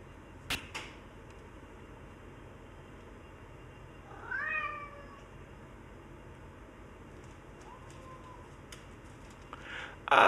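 A pet cat meows once, a short rising-falling cry at moderate distance, amid quiet room tone with a couple of sharp clicks and a brief thump near the end.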